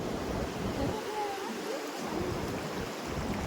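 Water pours down from a dam into a waterfall, a broad, continuous rushing wash heard outdoors with some wind buffeting the microphone.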